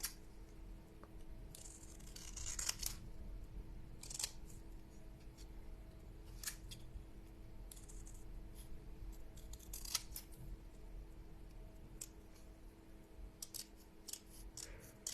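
Scissors snip through a paper pop-up greeting card, giving several crisp cuts scattered across a quiet room with a steady low hum beneath, no talking.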